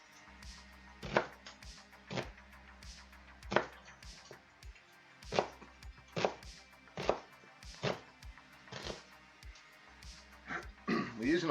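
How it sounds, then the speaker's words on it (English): A knife rough chopping a white onion on a board: a run of about a dozen sharp, close thunks in an irregular rhythm, quickening into a cluster of rapid cuts at the end, with faint background noise. "Rough chopping the onion."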